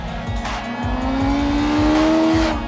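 A BMW M 1000 R motorcycle rips through corners, its close, loud engine revving up and down in rhythmic surges as it accelerates out of each bend, with wind rush around it.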